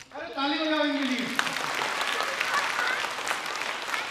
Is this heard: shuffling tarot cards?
no